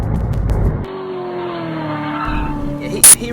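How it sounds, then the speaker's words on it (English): Supercharged Holden HSV VE Maloo V8 ute power drifting, tires squealing in a sustained skid over engine roar, loud at first then continuing more distantly, with a sharp burst near the end. "here's some power drifting with a big supercharged one."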